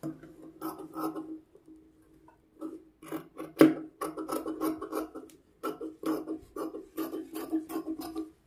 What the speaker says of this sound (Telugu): ఇప్పుడు మొత్తం ఎక్స్ట్రా క్లాత్ అంతా కట్ చేసుకోవాలి